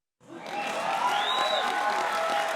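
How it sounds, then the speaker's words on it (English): A live late-night show audience cheers and applauds loudly, a sustained crowd roar that swells quickly and holds steady, with whistles rising above it. "They really cheer on you."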